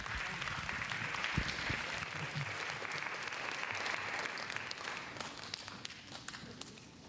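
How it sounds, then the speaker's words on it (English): An audience at an evening community event in Akron gives another round of applause, a fairly quiet, even wash of many hands clapping with a few sharper nearby claps and light shuffling. "Please give us another round of applause."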